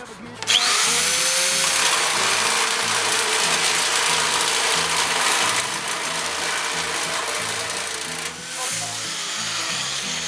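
A Pro Craft electric nibbler chatters loudly through three stacked metal sheets at maximum setting with a rapid, rhythmic clatter, running continuously and briefly easing before resuming.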